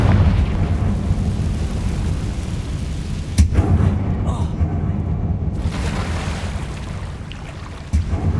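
Confringo fire spell in Hogwarts Legacy erupts with a sudden booming blast, followed by a second sharp burst near the end, over a constant loud rumbling background.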